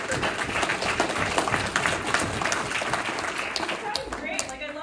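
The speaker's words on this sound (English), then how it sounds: "I love it when the claps happen on their own." Audience at a public forum on nationalizing GM in Oshawa claps in a sustained, even round of applause, fairly close and steady throughout, with a few scattered louder claps near the end.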